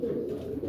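Stock racing pigeons coo in a loft, a steady, close, low throaty rolling sound that continues without a break and is heard alone.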